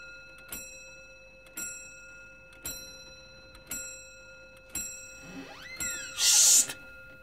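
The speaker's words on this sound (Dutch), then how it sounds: "Daar slaat de klok." A clock in a quiet house ticks steadily about once a second, close and clear, then gives a brief ringing chime near the end, with no talking.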